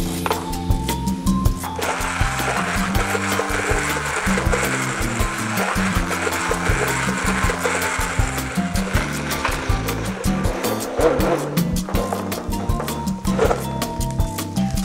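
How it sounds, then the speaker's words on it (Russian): A blender purees cooked spinach in a pot, a loud continuous whirring motor with shifting, uneven grinding tones that runs steadily for the whole stretch. "Все, и измельчаем блендером."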